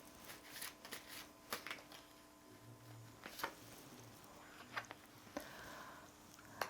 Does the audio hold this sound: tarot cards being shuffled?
yes